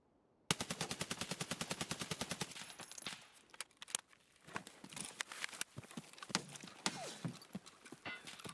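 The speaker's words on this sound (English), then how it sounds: "Don't know where those bullets came from." Escape from Tarkov automatic gunfire opens with a fast, evenly spaced burst of sharp shots, then breaks into irregular single and clustered shots that echo for several seconds.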